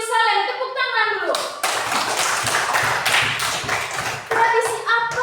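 A group of children clapping their hands together in a classroom, a dense burst of loud, close applause lasting a few seconds, with children's voices speaking before and after.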